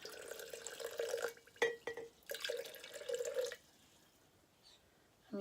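Vinegar pouring into a glass canning jar in several short bursts, a bright gurgling trickle heard close and quiet, with brief pauses between pours and a near-silent stretch near the end.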